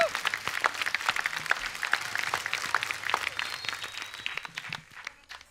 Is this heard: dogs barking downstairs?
no